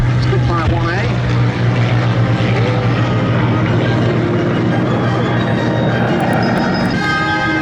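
Spitfire 1A fighter aircraft at a Duxford airshow drone overhead, a loud propeller engine roar that sweeps in pitch as the planes pass, with an announcer talking over the noise.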